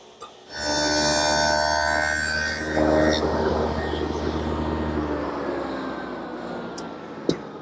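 A radial arm saw set to 22.5 degrees cuts the end of a piece of pressure-treated wood in a workshop, a loud sustained motor whine with blade-on-wood rasp, winding down afterward with a sharp knock near the end.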